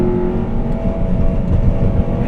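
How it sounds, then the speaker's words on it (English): A 2002 Honda Civic Si EP3 hatchback engine held at full throttle, a steady loud, continuous drone with no pauses or talk. "You can do a lot of full throttle in this car."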